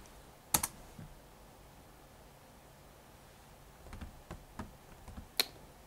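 Keystrokes on a computer keyboard while a Linux command is typed at the command line, heard as a few sparse, sharp taps: an early pair, then a quicker cluster near the end, close and clear over a quiet room.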